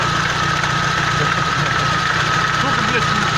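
A Euro 3 engine with a broken timing sprocket idles with a steady mechanical knock and vibration. The sound is loud and continuous, up close, with no one speaking over it.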